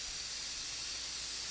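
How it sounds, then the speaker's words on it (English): Steam hissing steadily from under the lid of a pot of harira soup, a soft, continuous broadband rush at low level with no voices. "all the steam is getting released"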